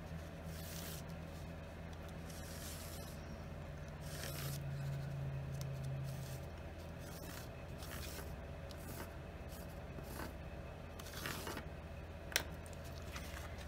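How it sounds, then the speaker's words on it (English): Pencil drawing a line around the edge of paper while making a card: faint, close scratchy strokes and soft scrapes at irregular intervals over a steady low hum. "I'm just going to get my pencil and do a pencil line all the way around the edge."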